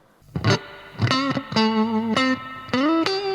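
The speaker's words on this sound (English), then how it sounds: "It's proper spring reverb." Electric guitar notes plucked one after another through an amp with real spring reverb, each ringing out with a splashy, springy reverb tail and slight grit.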